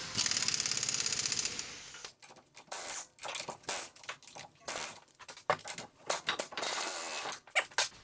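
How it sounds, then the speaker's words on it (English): An impact gun rattles in short, sharp bursts while tightening bolts during a wheel bearing replacement, heard close and loud after an initial steady mechanical whir. "now you can go ahead, gun them on"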